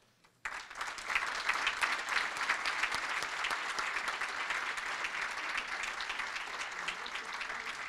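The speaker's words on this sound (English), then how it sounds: "So I want to give everybody give a round of applause to the foundation board." An audience at a police foundation chief's breakfast in Pasadena bursts into sustained applause, dense and even clapping that starts abruptly and carries on for several seconds.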